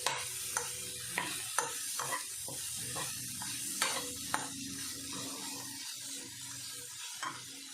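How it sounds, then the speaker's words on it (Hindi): Paratha stuffing seasoned with chaat masala being stirred in a pan, with repeated scraping knocks of the spoon against the metal over a soft, steady sizzle, close and alone. "अब इसको अच्छे से मैं मिक्स कर दूंगी, और इसको ठंडा होने के लिए रख दूंगी।"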